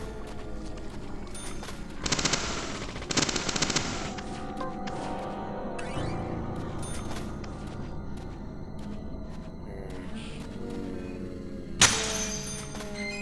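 Gunfire in the video game Deadly Premonition: The Director's Cut, several loud sharp shots and bursts among game music and effects, alone with no talk.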